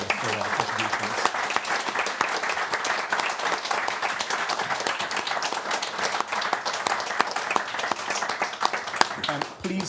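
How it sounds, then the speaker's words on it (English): A sustained round of loud applause from an audience for panel speakers at a policy event, with dense, close clapping and a murmur of voices throughout for about ten seconds. "can we please give them all an extra loud round of applause for their contributions"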